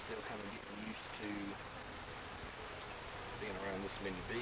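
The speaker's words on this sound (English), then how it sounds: "being around this many bees" A dense, steady drone of many honey bees swarming around an open beehive during a hive split, close and continuous, with a few louder buzzing swells rising over the hum.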